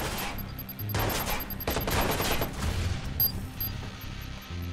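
Grenade blast and rapid gunfire in the Watch Dogs video game on Xbox One: dense bursts of automatic fire and booms roll on for several seconds, loud and close, with a few sharper bangs near the end.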